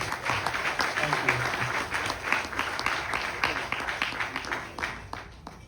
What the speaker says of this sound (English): I have to ask you to applaud.